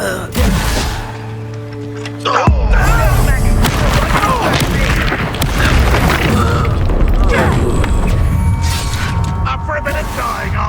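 Incendio fire spell blast in Hogwarts Legacy, a sudden loud burst followed by sustained crackling, booming combat noise and clashing effects, with character voices mixed in.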